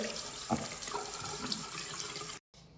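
Tap water runs steadily into a sink while a face is rinsed, with a close, splashy flow for over two seconds that cuts off abruptly.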